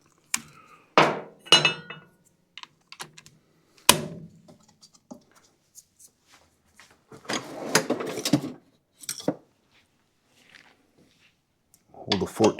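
Metal spring and parts being removed from a Toro Super Recycler mower: a series of sharp clanks and clinks at irregular intervals, close and fairly loud, with quiet gaps between them.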